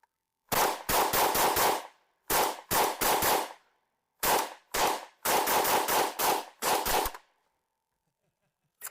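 An FN P90 bullpup fires in rapid strings of loud close shots, with bursts separated by short pauses and silence at the end.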